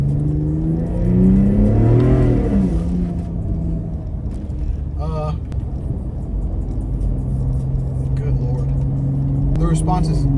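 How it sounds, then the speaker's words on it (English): Ford Raptor truck fitted with an SPD trombone exhaust revs up, its deep rising exhaust note swelling then settling into a rumbling idle, with someone talking over it nearby. "I'm sure you guys can hear the trombone exhaust from SPD."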